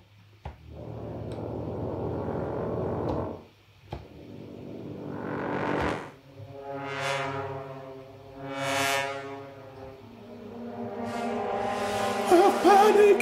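A synthesized orchestral preset called Pandora Panic from The Free Orchestra, playing loud, dense swelling tones that rise and fade in several repeated waves, ending in a sustained rich chord, with no voices.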